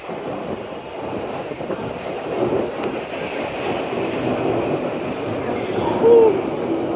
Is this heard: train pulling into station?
yes